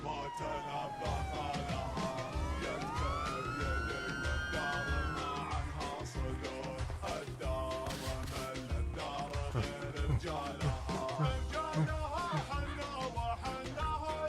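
Police sirens wail and rise in Grand Theft Auto, sweeping tones layered over dense game music and effects, loud and continuous throughout.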